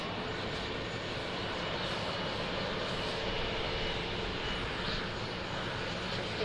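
An Air Force plane landing at Lisbon Airport, heard as a loud, steady engine roar that fills the whole stretch without fading, with no voices.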